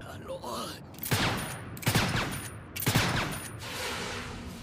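Gunfire in an anime episode, three loud bursts of shots spaced about a second apart, close and sharp, with no talk over them.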